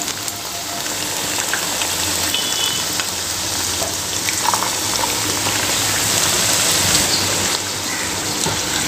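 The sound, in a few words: somas (sweet dumplings) deep-frying in hot oil in a kadai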